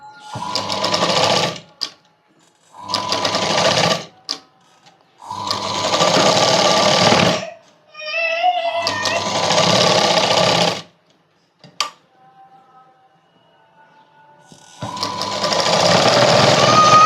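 A sewing machine stitches the lining of a kid's night dress in several loud bursts of rapid running, separated by short pauses with a brief whirring squeal in the middle.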